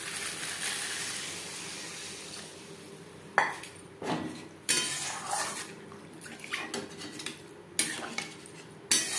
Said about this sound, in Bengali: গ্রেভির সাথে আলু বেশ ভালো করে মিক্স করে দেবো।